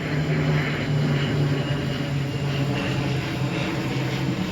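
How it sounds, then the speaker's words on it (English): An airplane passes overhead as a steady, loud, broad engine drone with a low hum that holds for the whole stretch, with no voices. "there goes a plane overhead"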